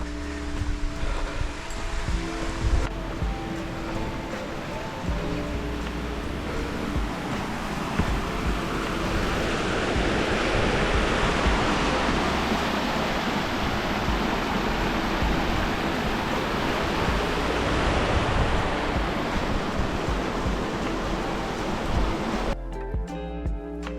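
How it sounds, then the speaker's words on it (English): A creek flows beside a mountain trail at Fern Lake on the June Lake Loop, making a steady, continuous rushing hiss of water that swells slightly in the middle and carries on without any talking. "let's go check out this, see how good the creek's going. I can hear it."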